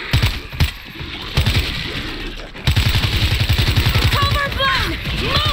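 Rapid gunfire from players shooting zombies in World War Z, steady bursts running under shouted voices, with mechanical clatter and high whistling tones near the end.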